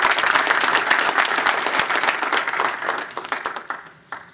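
Audience at an Urdu Academy literary session applauding steadily, a dense wash of clapping that thins and fades out over about four seconds.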